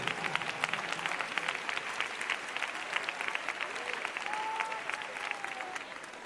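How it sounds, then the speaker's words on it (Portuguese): A church congregation gives a burst of applause during a worship service, dense lively clapping with some voices and a brief sung or spoken tone mixed in. "Podem glorificar ao Senhor com uma salva de palmas bem forte,"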